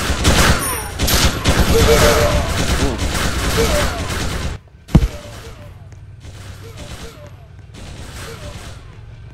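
Rapid bursts of gunfire from the Roblox game Commander Simulator crackle loudly and steadily for several seconds, then cut out briefly before softer, more distant shots continue, with a voice speaking over the shooting.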